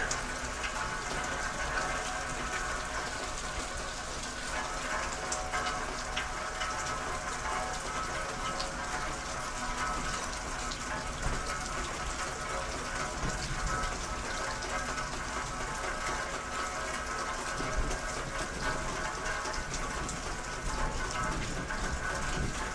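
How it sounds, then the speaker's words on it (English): Steady rain falls outdoors, a continuous even hiss of drops pattering on surfaces, moderately loud and unbroken with no voices. "it is raining"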